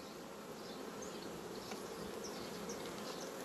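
A dense, steady buzz of many honey bees at the hive hums close by, continuous and fairly quiet, with no voices.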